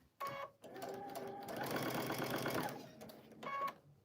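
A sewing machine stitching and tacking the edge of a girl's dress runs close by, starting and stopping in short bursts with a steady whirring stretch in the middle.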